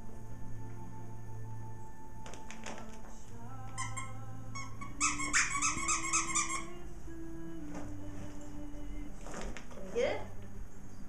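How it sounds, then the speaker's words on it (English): A Welsh Corgi's squeaky toy gives a short burst of rapid high squeaks on Christmas morning, with people talking around it. "I think you got a squeaky."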